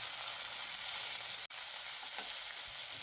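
Tomatoes sauté with peanuts and mustard seeds in a pan, a steady, close hiss of frying oil that runs throughout, cut by one brief silent break midway before the sizzle resumes at the same level.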